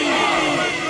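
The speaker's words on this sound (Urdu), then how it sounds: "سارے احباب نعرے کا جواب دیجئے۔" A large crowd at a religious gathering roars back in unison to a Naara-e-Takbir slogan, a loud, sustained massed shout that holds steady for the whole moment.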